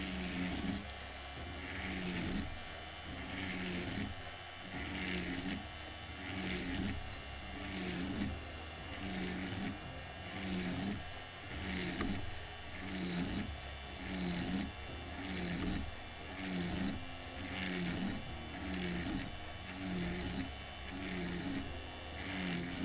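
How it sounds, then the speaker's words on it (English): Small electric drill boring into the wooden hull of a scale model of the 1776 gunboat Philadelphia, a steady motor whine with a regular pulsing rhythm running close and continuous for the whole stretch. "So let's drill it."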